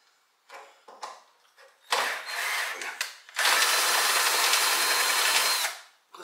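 A power tool, likely an impact wrench or drill, works on the front end of a 1968 Pontiac GTO with the A-arm removed, firing in short bursts before a long, loud, steady run, with no talk.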